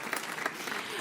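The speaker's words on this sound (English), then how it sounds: "Big round of applause, please, to the drivers." Brief burst of audience clapping for the drivers at a BMW lineup and concept vehicle presentation, fairly soft and even with a few sharper claps standing out.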